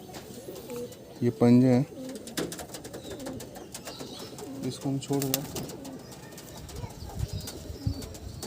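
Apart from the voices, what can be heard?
pigeon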